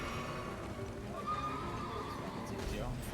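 A horse in a video game neighs with a rising whinny amid hoof clip-clops and game background noise, while people talk over it.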